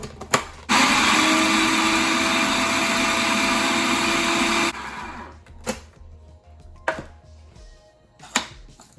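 A blender grinds ginger and garlic into paste with a loud, steady whir for about four seconds, then cuts off, followed by a few sharp clinks and knocks of handling the jar.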